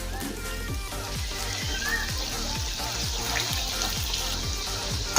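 Dahi bora lentil fritters frying in hot oil give a steady, fairly loud sizzling hiss that runs throughout, over a regular low thumping pulse.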